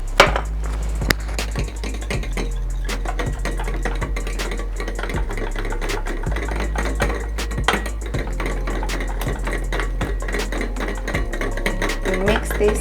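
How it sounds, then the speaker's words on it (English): Chicken snack ingredients mixed with melted butter in a bowl, a steady rhythmic scraping and clinking of a utensil against the dish, close and moderate in level, with no talking. "Mix this completely."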